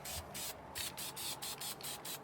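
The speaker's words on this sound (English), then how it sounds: "Other good thing about the spray adhesive is if you get a little extra on where it shouldn't, you can always get it off real easy with your thumb." An aerosol can of spray adhesive sprays onto a pedalboard case in a run of short, close hissing bursts, roughly seven or eight quick pulses with brief gaps and no voices.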